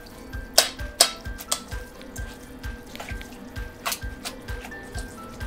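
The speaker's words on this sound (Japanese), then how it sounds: "そうしましたら麺をソースに絡めて" Cooked spaghetti tossed in a shirasu and mentaiko sauce, giving soft wet slaps and clicks that repeat in an uneven rhythm, close by, over a faint steady hum.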